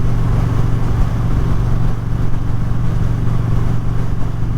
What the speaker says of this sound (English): I like to hear how the engine's running.